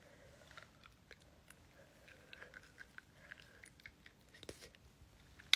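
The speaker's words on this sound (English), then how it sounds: "I enjoy eating them." Food is being bitten and chewed close to the mic, producing soft, irregular crunchy clicks and wet chewing noises at a quiet level with no talking.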